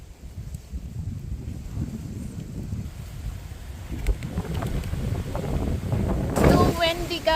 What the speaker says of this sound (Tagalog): So windy, guys.